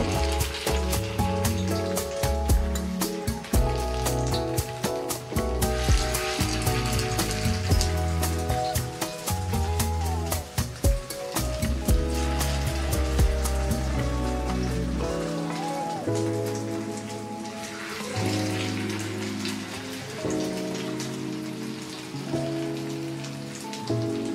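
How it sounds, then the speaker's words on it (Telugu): Soya chunk masala cutlets shallow frying in hot oil, a dense crackling sizzle like rain on a surface, steady and close, partly mixed with background music, no voices. "వీటిని షాలో ఫ్రై చేసేసుకోవాలి."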